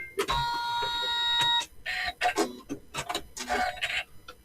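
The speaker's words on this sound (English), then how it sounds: "now I'm ready to sew it out" Embroidery machine sewing quilt stitches, a brief steady mechanical whir with a bright tonal beep at the start, followed by short clicks and thread-handling noises at close range.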